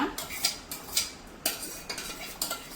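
A spoon or spatula scrapes and knocks against a pan in a steady, regular rhythm while a thick ghee mixture is stirred, giving close, clear metallic strokes about twice a second with no talking.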